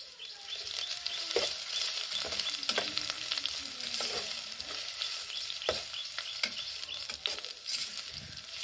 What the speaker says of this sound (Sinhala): ටිකක් රන්වන් පාටට බැදීගෙන ඉද්දි අපි ඒකට කපාගත්තු ලූණු ටික එකතු කරගන්නවා. ඊට පස්සේ නැවත කලවම් කරගන්න ඕනේ.